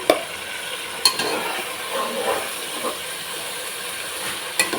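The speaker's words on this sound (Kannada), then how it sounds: "ಗರಂ ಮಸಾಲ ಸೇರಿಸಿ ಈ ರೀತಿಯಾಗಿ ಮಿಕ್ಸ್ ಮಾಡ್ಕೊಳ್ಳಿ." Garam masala stirred into veg biryani in a pan, a steady close sizzle and hiss with gentle scraping strokes and a couple of sharp spoon taps against the pan.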